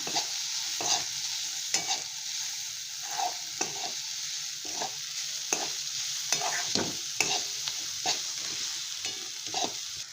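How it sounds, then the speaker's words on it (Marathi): Black chili powder and chicken masala being stirred in a frying pan: rhythmic spatula scrapes repeat roughly every half second over a continuous close sizzle, with no talking. "तर हे चांगलं हलवून घेऊया"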